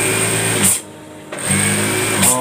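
Sewing machine stitching the elastic edge of a fitted bed sheet, a steady close mechanical whir running in two bursts with a short pause between.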